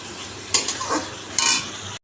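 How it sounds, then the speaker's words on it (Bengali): Spice masala sizzling in hot oil for a jackfruit curry, stirred with a utensil, with two sharper bursts of frying and scraping over a steady low sizzle, close and moderately loud with no talking. "ভালো করে তেল বেরিয়ে যাক ভালো করে কষিয়ে নিই"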